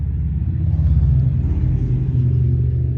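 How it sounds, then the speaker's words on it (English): Three motorcycles pass by close on a road, a loud continuous low engine rumble that swells and holds steady without talk. "That is 3 motorcycles."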